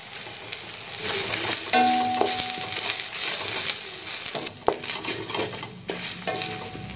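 Onion, chili, tamarind and grated coconut sizzle in a pan, with a steady fry hiss, scraping stirs and a few sharp metallic clinks.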